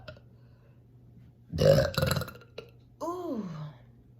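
A person burps on command, letting out a loud, raspy belch in two bursts up close, then a brief click and a shorter voiced burp that slides downward.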